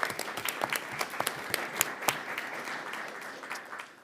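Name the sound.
audience applause for teacher Caitlin McDonald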